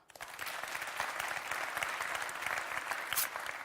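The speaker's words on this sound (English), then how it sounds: "So if you think yes, then please clap now." A conference audience at a tourism forum breaks into steady, dense applause that starts abruptly and holds at an even level, fairly close.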